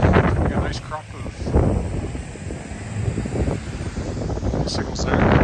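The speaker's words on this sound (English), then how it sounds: "Then you get a blast of wind." A cold gust of wind striking a handheld microphone on a downtown Regina street in March: rough, buffeting low rumbles that swell and fade in bursts, mixed with a person's voice.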